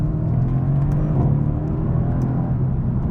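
A 2017 Mercedes-AMG C63 S Coupe engine roars steadily as it accelerates out of corners, a loud continuous whirring rumble that holds for a few seconds with no voices.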